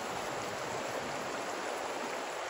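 Snake Indian River in Jasper National Park flowing as a steady broadband rushing wash, even and unbroken, moderately close with no voices.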